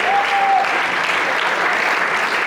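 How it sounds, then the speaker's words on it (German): An audience applauds the winners at a Swiss folk music choir's anniversary celebration, steady loud clapping that fills the whole moment without a break. "herzliche Gratulation, Applaus bitte, Applaus, kommt"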